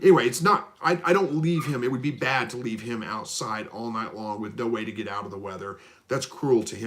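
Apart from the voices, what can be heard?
No distinct noise like a dog, phone or traffic.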